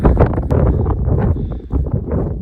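Steady, loud wind buffeting the microphone in gusts on a mountain ridge at Virginia's highest point, a broad roaring rush that swells and dips throughout with no voices.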